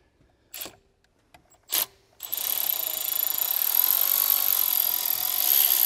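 A long-reach T25 ratchet on a metering unit bolt of a Ford 6.7L Power Stroke diesel: two short clicking bursts, then a sustained whirring run of rapid ratcheting up close, with no talk.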